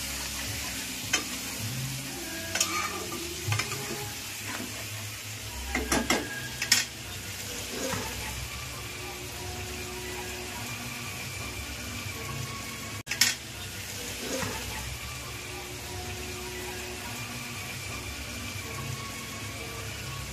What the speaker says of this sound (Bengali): মাংস সেদ্ধ করে যে জলটা রেখেছিলাম ওটা একটুখানি দিলাম, ওটাকে বারে বারে দিয়ে কাজে লাগাবো।